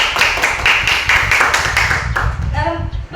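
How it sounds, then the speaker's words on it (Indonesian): Classroom of students clapping for a teacher's lesson, a burst of dense, fairly loud hand claps that fades after about two seconds as a voice begins speaking. "Tepuk tangan dulu."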